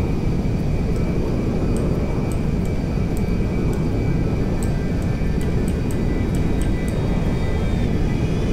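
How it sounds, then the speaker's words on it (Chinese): A Boeing 747 jumbo jet lands in the video game GTA 5, making a steady, loud engine drone with a continuous whine, joined by faint repeated ticking clicks, and no one talks. "这边这个平坦的地方降落是最爽快的，机轮可以先放"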